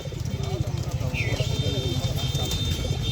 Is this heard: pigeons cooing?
yes